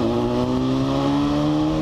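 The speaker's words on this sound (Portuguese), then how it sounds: "esse vídeo aí foi dando uma acelerada forte" A motorcycle engine revs hard and steadily in the open, its loud note holding strong and rising slightly through the whole short stretch, with no talking over it.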